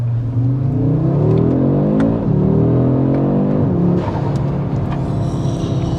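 A 2022 Audi RS3 8Y accelerates hard, its engine note climbing steadily in pitch, dropping briefly at two gear changes, then pulling up again. The loud, close drone is heard from inside the cabin.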